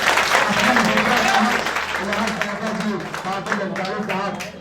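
Audience applause at an Urdu poetry mushaira recital, a steady wash of clapping running through the whole stretch with a voice speaking over it.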